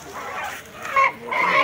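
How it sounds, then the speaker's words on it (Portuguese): Chickens and capons at a poultry fair in Craíbas, Alagoas, clucking and squawking in a short busy burst close by, with some crowd noise underneath. "tem também, pessoal, bastante galinha aqui na feira"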